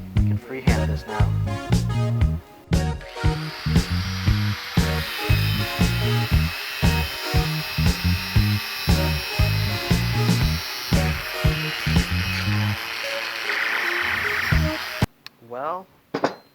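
Freehand drilling into a brake rotor with a power drill, done in a DIY job of drilling and slotting the rotors: a steady run of short, rhythmic bursts of drill whine and grinding, close and loud, broken up by brief pauses.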